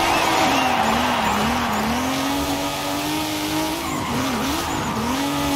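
A Hot Wheels 2 Jet Z car with a Toyota Supra engine drifts in the racing game Forza Horizon 5, its steady engine drone blending with continuous loud tire squeal throughout.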